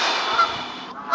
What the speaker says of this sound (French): écouter les oies canadiennes